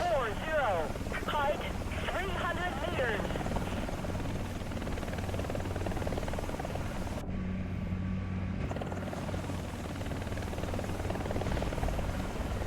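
An AH-1Z attack helicopter's rotor in War Thunder thrums steadily and loudly throughout, with a short burst of chirping tones early on; a voice is heard briefly.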